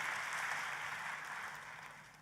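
A church congregation claps for Jesus, a broad, steady wash of applause at moderate distance that slowly fades.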